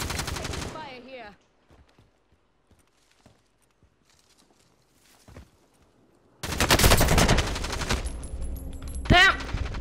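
Rapid bursts of gunfire in the Call of Duty: Warzone battle royale game erupt loudly after a mostly quiet stretch with a few faint thuds, sustained close automatic fire continuing to the end.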